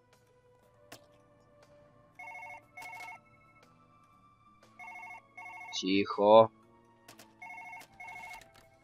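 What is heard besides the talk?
telephone ringing in video game Surgeon Simulator 2013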